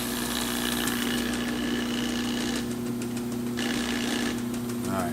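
Bottle filling machine with a neck clamp assembly running a manual setup cycle, giving a steady mechanical hum with a constant drone and rattling vibration throughout, close and continuous.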